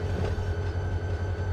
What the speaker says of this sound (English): We're gonna bring this train up to the end of the yard here